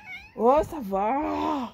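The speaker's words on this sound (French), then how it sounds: "C'est un chat un peu spécial." A domestic cat gives a drawn-out, rising and falling meow up close, with a short spoken exclamation from a person just before it.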